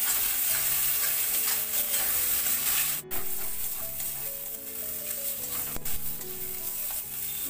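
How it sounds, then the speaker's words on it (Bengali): Spice paste with turmeric for a Bengali silver cup fish dish fries and is stirred in a pan, giving a steady close sizzle with occasional scraping and clinking of the spoon, no voices. "এবার আমি মশলাটাকে ভালো করে কষিয়ে নেব।"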